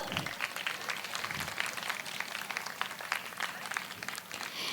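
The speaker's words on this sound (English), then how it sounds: "May I have a huge round of applause for our principal," A crowd at an opening ceremony gives the principal a round of applause, sustained dense clapping at moderate volume with some sharper individual claps standing out, continuing for nearly five seconds.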